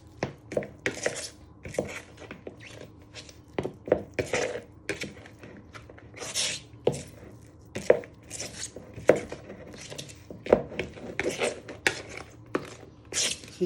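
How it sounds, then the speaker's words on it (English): Gingerbread dough is worked around a bowl with a knife, giving repeated sharp taps and scraping knocks of the blade against the bowl at an irregular, fairly quick pace, close and clear with no talking. "Takes a few minutes to bring it all together using your knife."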